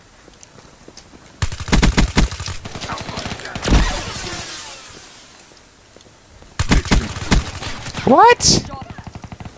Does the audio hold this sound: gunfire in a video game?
yes